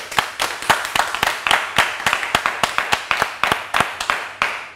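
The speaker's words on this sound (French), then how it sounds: "Bravo, ça s'applaudit. Applaudissez." A small group clapping, sharp individual claps in a quick uneven rhythm for several seconds, close and fairly loud, with no voices.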